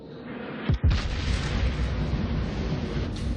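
Warship main guns fire shells in a naval battle video game: two deep booming blasts in quick succession, followed by a rolling low rumble that lingers.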